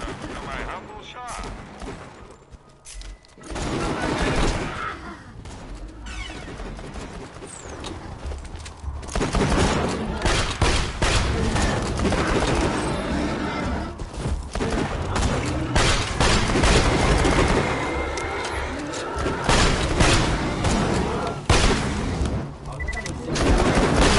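Gunfire from a weapon in the video game Borderlands 2, dense bursts of loud game shots and booms forming a nearly continuous barrage, with people talking over it.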